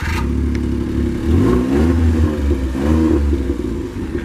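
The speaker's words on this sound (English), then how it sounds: "listen to the smart car running" A Smart car engine running and revving, a close, low mid-pitched hum that rises and falls in a couple of revving swells over steady idle.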